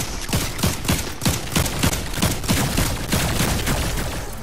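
Gunfire in the video game Fortnite crackles as a loud, rapid series of shots, roughly evenly spaced, continuing without pause across the whole stretch.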